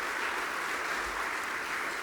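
A seated audience at a public archaeology talk on Central Africa applauds in a steady, dense wash of clapping that stays even throughout, with no voices over it.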